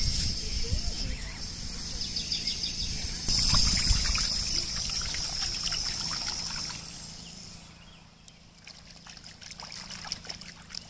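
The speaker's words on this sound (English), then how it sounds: "Filling up more water balloons." Water trickles and splashes steadily for several seconds, with a faint hiss near the source, then quieter dribbling and small handling noises.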